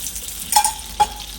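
Ghee sizzling on an iron griddle while millet flatbread is made, a soft steady hiss with two brief scraping stirs, close and fairly quiet, no talk.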